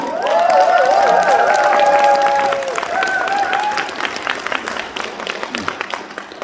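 A crowd at a corporate group rally claps and cheers loudly, the applause thick and sustained with sustained tones riding over it early on before fading toward the end.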